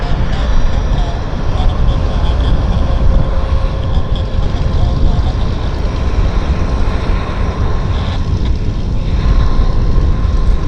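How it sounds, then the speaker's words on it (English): Canadian-registered Challenger corporate business jet at Vancouver airport, its engines a loud, steady broadband roar filling the whole stretch with no break, with faint talk mixed underneath. "Don't know who the operator is of this airplane, but obviously it's Canadian registered, Challenger, corporate Bizjet."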